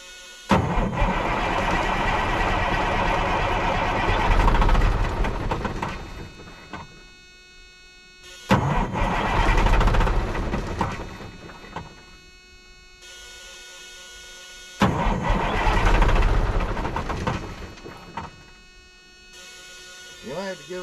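Three separate bursts from a 1982 Peterbilt truck's diesel engine firing on ether, each a loud rough roar lasting several seconds before dying into quiet gaps, with voices speaking between attempts.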